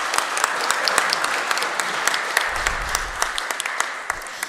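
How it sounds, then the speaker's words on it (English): A room full of people applauds war survivors at a morning Mañenggon memorial commemoration press conference, with steady, dense clapping that holds for several seconds. "I want to give a round of applause to our war survivors for joining us this morning"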